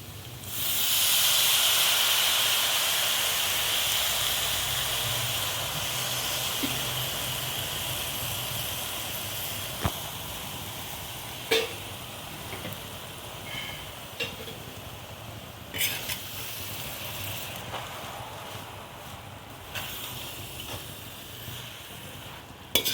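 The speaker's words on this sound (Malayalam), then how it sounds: "ഇതിലേക്ക് നമ്മൾ കഴുകിയിട്ടുള്ള മുരിങ്ങയില ഇട്ട് കൊടുക്കുകയാണ്." Washed drumstick leaves hit a hot pan with chili and turmeric for an egg thoran, giving a loud steady hiss that slowly eases, with occasional stirring clicks and taps scattered through.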